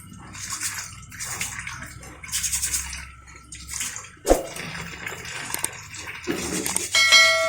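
Cassava pieces being washed by hand in a container of water, with irregular sloshing and splashing, occasional clunks and a brief metallic clink near the end.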